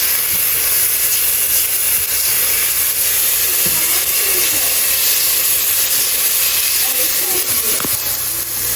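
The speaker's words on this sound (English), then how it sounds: "Just gonna go ahead and saute my onions with some extra virgin olive oil." Onions and minced garlic sautéing in extra virgin olive oil in a home kitchen, a loud, continuous broadband sizzle and hiss that holds steady throughout, with faint clinks underneath.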